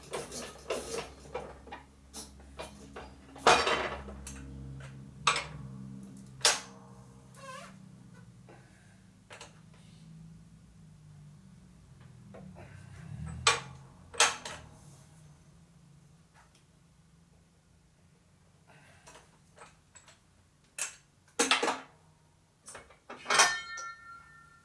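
Sharp metallic clicks and ticks ring out sporadically from a torque wrench tightening the flywheel of a 1997 Harley-Davidson Evolution 80ci lower end held in a press, with clusters of clanks, a low mechanical rumble and quiet stretches between, no talk.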